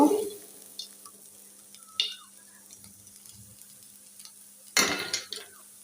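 A pan of Bengali posto, a poppy seed fry, being stirred as it cooks: sparse, faint scraping and light clinks over a low steady hum, with a sharper burst of sizzle and clatter near the end.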